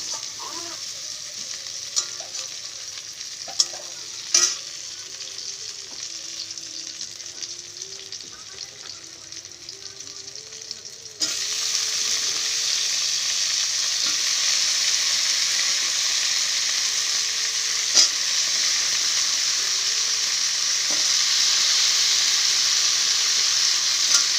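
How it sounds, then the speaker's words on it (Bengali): Onion and chuno fish frying in a pan, a steady sizzle with occasional spatula knocks and scrapes; a faint hum runs through the first half, then the frying hiss grows louder and fuller and continues without speech. "ভালো করে পেঁয়াজ আর মাছটা ভালো করে, চুমুর মাছটা ভালো করে ভেজে নেব"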